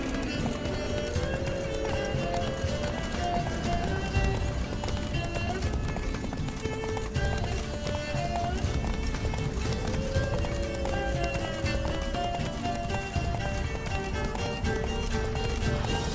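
Rapid hoofbeats of a galloping horse pound continuously in The Witcher 3: Wild Hunt, mixed with game music and ambient effects throughout.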